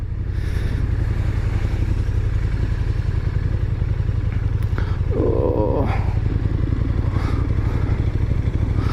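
A KTM 1290 Super Duke motorcycle engine drones loud and steady close by, with its deep rumble going on without a break and a brief rasping flare partway through.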